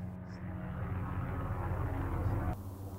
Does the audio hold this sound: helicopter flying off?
yes